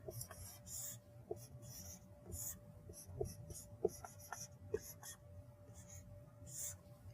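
Pen scratching out an equation by hand on paper, a quiet run of short strokes and taps at an irregular rhythm, close and faint, with soft murmured talk beneath it.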